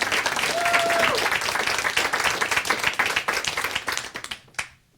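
A live studio audience applauds songwriter Ryan with dense, enthusiastic clapping that thins into scattered claps and fades out, a brief whistle and some voices mixed in.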